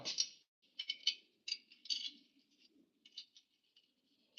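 Faint, irregular metallic clicks and ratcheting ticks come from a 19 mm spanner working a leaf spring washer during a leaf spring install on an HZJ75 Toyota Troopy. The clicks arrive in short bursts with quiet gaps between them.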